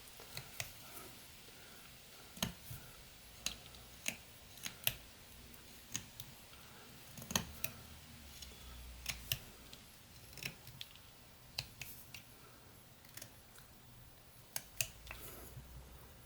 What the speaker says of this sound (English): Just finish trimming the lip up a bit.